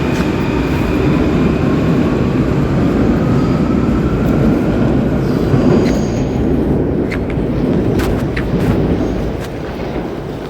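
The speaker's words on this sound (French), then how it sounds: "mon métro vient juste de partir" A Paris metro train pulls out of the station with a loud, steady rumble and rolling clatter that slowly fades, and a few sharp metallic clicks come near the end. Nobody talks over it.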